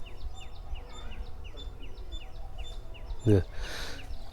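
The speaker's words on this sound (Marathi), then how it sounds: "मी ज्या आवाजाबद्दल आत्ता बोललो तो खारुताईचा आवाज आहे" Squirrel chirping calls at the Sasivekalu Ganesha temple in Hampi, a quick series of high, repeated chirps at a steady rhythm, fairly faint, with one brief louder knock near the end.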